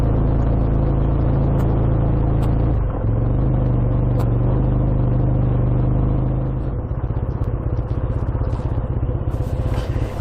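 A BSA A10 motorcycle rides off a ferry in Cornwall, its engine a loud, close, continuous rumble with a steady throb. The engine pitch shifts partway through, and rapid clattering pulses follow as it pulls away.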